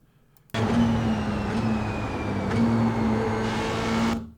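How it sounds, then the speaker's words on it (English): An F3 race car at Phillip Island circuit braking and shifting down through the gears into a turn, a steady close engine drone from onboard with stepped pitch changes as each gear drops. "just brush the brake, 6, 5, 4, 3 through the gearing as you're going through the turn"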